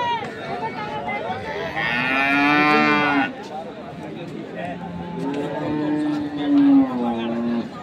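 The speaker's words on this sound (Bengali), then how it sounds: "আমবাড়ি হাটের যে দুধের গাভী গরুগুলো রয়েছে সেই গরুগুলোকে" Dairy cows lowing at Ambari cattle market in Dinajpur, several long, loud, close moos following one another, with crowd chatter in the background.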